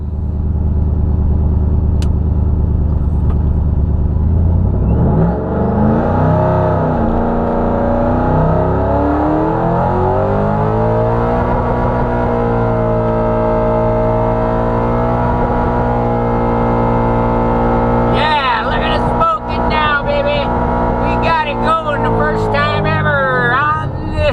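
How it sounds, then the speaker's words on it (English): A cammed Shelby fitted with a Kenne Bell supercharger does a burnout, its engine revving up and holding a loud, throaty drone with shifting pitch, then sharp crackles and tire squeal bursts near the end. "This is going to be the burnout right now."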